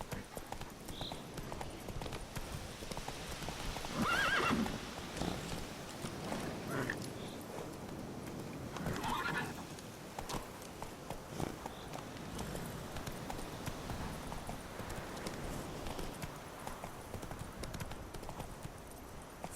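Roach, a horse in The Witcher 3 video game, clip-clops along in a steady hoofbeat rhythm at moderate distance, with a couple of brief louder swells and a faint whinny-like moment, no speech over it.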